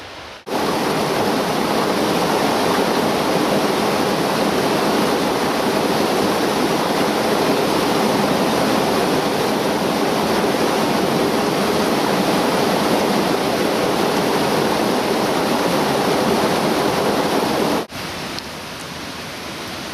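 A mountain stream rushes steadily and loudly, a constant broadband roar of flowing water close by that holds unchanged for the whole stretch before a slight dip near the end.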